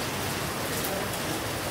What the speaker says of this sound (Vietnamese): Rồi mưa to luôn á.